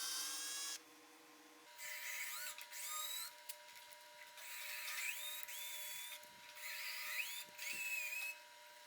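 A power tool drives a spiral point tap while building a custom tool stand, a faint whining motor running in several bursts with pauses between, its pitch rising and sliding as the load changes.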